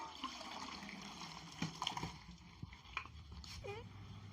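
Water is drained off partly cooked rice for a soya chunk biryani, faint trickling and splashing with a few soft pours and clinks.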